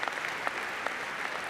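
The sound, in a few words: applause, the speaker clapping for the software team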